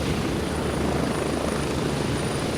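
A military helicopter in the shooter game Gray Zone Warfare, heard from inside with a loud, constant rotor roar and engine whine, with no other sounds.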